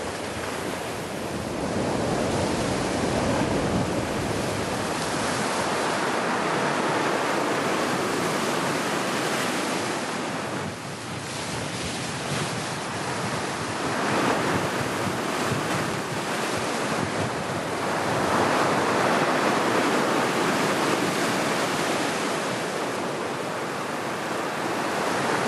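Sea waves breaking steadily on a shoreline where sea bream are fished, a loud, continuous wash of surf with rolling surges and wind noise across the microphone, no voices.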